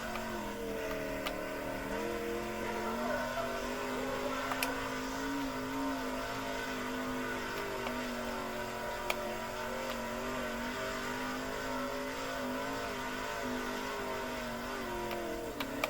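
Sprint car engine in the World of Outlaws '23 racing video game, a continuous high revving whine whose pitch shifts up and down through a lap, steady and moderately loud with no talking.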